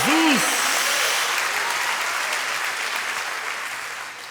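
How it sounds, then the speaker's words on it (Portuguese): Applause from a church congregation, a steady wash of many hands clapping that slowly fades over a few seconds, with a short voiced tone at the start. "Então dá uma salva de palmas ao Senhor."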